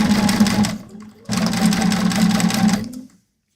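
A sewing machine stitching down fabric, a loud, close steady motor whir with rapid needle clatter in two runs split by a short pause, then abrupt silence.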